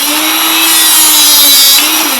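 A $200 rebar cutter working through steel rebar in a machine shop, a loud, steady, close grinding whine with a high metallic edge that holds without a break.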